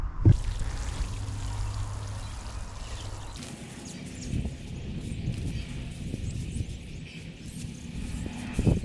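Water pours steadily onto freshly planted shallots, then gives way to a softer trickle and splashing over damp garden soil, close and fairly quiet.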